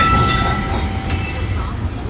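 Onboard a running tram in Kolkata, a constant low rumble and rattle of the car fills the scene, with faint metallic squeals and clicks over the steady noise.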